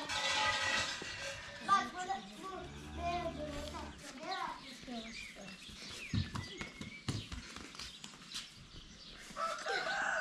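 Chickens clucking on a village farm in hot weather, short rising and falling calls scattered across the clip under near, steady conversation.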